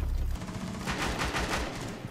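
Gunfire in Rainbow Six Siege, a burst of rapid, loud shots close by that rattle out over about two seconds.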